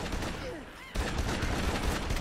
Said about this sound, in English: So it's basically just a fully automatic assault shotgun